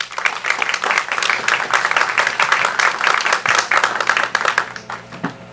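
Steady applause from an audience welcoming engineer Sérgio Luiz Silva to a talk on innovation in maintenance, dense and continuous for several seconds before fading out.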